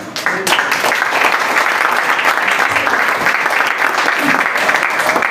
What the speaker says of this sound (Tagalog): I-welcome na natin sila ng malakas na palakpak.